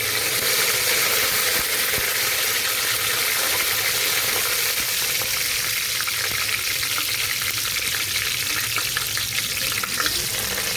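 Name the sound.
tempering spices sizzling in hot oil in a pan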